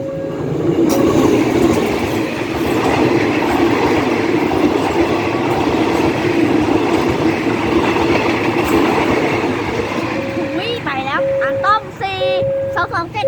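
Thai train 258, running from Nam Tok to Thonburi, pulls out of a station with a loud, steady rumble and rolling rail noise throughout, and horn-like tones sound near the end. People talk over it.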